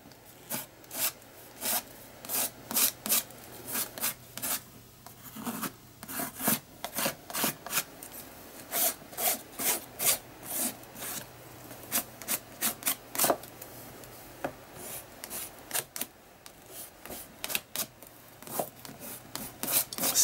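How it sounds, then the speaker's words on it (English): Spatula scraping wet paint across an art journal page, a long run of short dry rasping strokes in quick irregular bursts, close and fairly quiet with no voices. "I'm going to use the spatula again just to scrape it"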